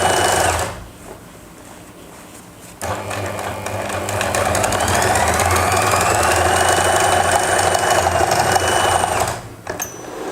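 A sewing machine runs steadily while stitching elastic, a loud continuous mechanical whir that pauses briefly near the start and drops off near the end.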